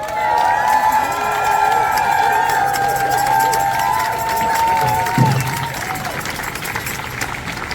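A crowd cheers and applauds for Chief Turtle at an outdoor Grassy Narrows River Run rally, a steady wash of claps, whoops and voices that holds loud for several seconds before easing slightly.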